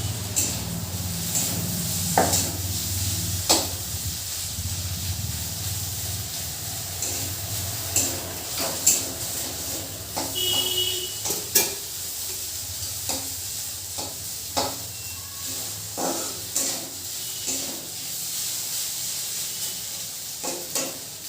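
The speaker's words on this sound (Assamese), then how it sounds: "ডাঠাখিনি প্ৰায় ভজা হৈ গৈছে।" River fish frying in a pan gives a steady close sizzle, broken by repeated scraping and clicking strokes as the pieces are stirred and turned, with no voices.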